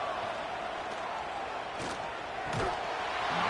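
Loud stadium crowd roaring on third down in a college football video game, a dense sustained wash of noise with a couple of sharp thuds breaking through.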